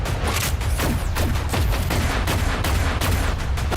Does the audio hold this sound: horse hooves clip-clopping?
no